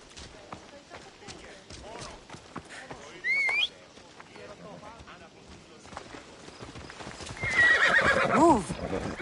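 Video game horses gallop with rhythmic clip-clop hoofbeats and give two loud neighs, one early and one near the end, mixed under game character dialogue.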